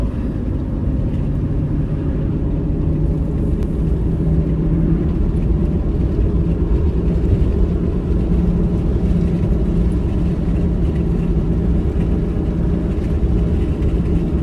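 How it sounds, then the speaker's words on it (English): Steady road traffic roars past on a highway during a trail run, a continuous loud engine and tire rumble close by with no break. "there's so much traffic he can't like go around me either"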